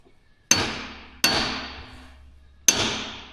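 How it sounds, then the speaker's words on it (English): A hammer strikes a stuck metal part three times, sharp loud bangs with a short ringing decay, spaced irregularly about a second apart, with no talk between blows. "Hammer on it once."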